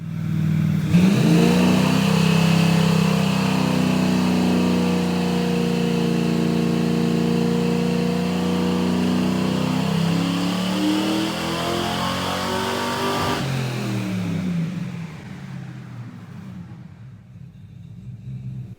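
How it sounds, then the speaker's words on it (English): Chevrolet Nova SS crate engine with Holley Sniper EFI on a dyno, making a full-throttle pull at 30 degrees of timing: a loud, sustained roar climbs steadily in pitch for about thirteen seconds, then drops away and winds down. "let's get right to it and do that first pull at 30 degrees of timing"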